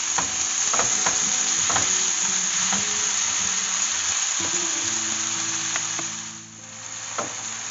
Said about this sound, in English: the onion, the ginger garlic kind of is cooked a little bit, and I'm going to add the tomatoes